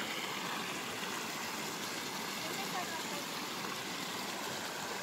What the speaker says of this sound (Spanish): pero se oye el río